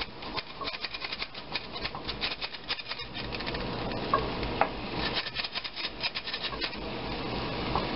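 Flour is stirred into a hot pan, with a soft, steady scraping and rubbing over a low sizzle, quiet and close up.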